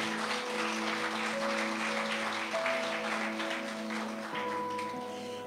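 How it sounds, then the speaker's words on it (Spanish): Catholic congregation at a fasting sermon applauds steadily for Jesus, moderately loud, with sustained musical tones from an instrument ringing underneath the clapping. "Un aplauso a nuestro amado Jesús."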